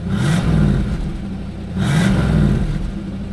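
A Chevrolet Camaro with its stock exhaust revs twice in close succession, each burst rising to a loud mid-pitched roar and falling back to a rumbling idle.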